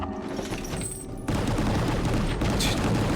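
Loud, dense gunfire barrage in Gungrave G.O.R.E, a continuous rapid-fire roar that jumps louder partway through and keeps pounding without a break, close and overwhelming.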